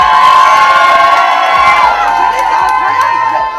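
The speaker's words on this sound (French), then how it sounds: "Alex Skila qui est dans la maison, la MC, faites du bruit pour lui s'il vous plaît" A loud, dense crowd cheering and shouting in a Portuguese restaurant turned R&B club, sustained and close, with high whoops rising over the roar.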